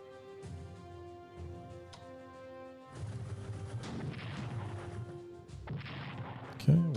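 Artillery bombarding a fort at Williamsburg in Strategic Command: American Civil War, with heavy booms and crashing impacts over a game music bed and a sharp blast near the end.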